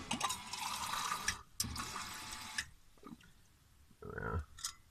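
Water runs from a small sink inside a mini van camper, a steady rushing pour that cuts out briefly and resumes, then stops; a short separate splash or gurgle follows near the end, close and fairly quiet.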